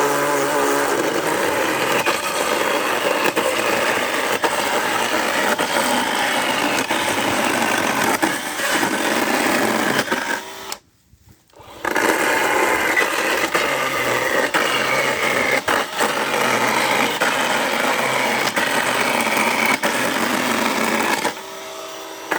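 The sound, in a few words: Parkside chainsaw cutting Euro pallets for firewood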